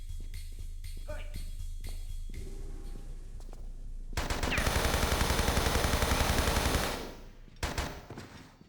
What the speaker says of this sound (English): That's Phil's doing the final shot, Call of Duty style